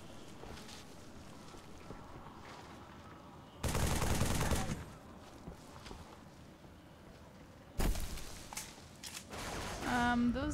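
Gunfire in Halo 3 comes as two loud, dense automatic bursts a few seconds apart over windy background noise, with a voice coming in briefly at the end.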